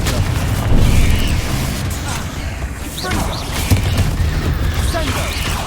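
Booming spell blasts and bursts in the Hogwarts Legacy game, loud and continuous with rumbling low end, overlapping combat noise throughout.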